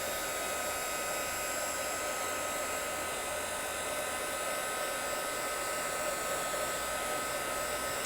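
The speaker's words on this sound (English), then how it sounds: "a hairdryer on a very low setting." A hair dryer on a very low setting blows over alcohol ink on Yupo paper. It makes a steady, close, unbroken whir that runs for the whole stretch and stays alone.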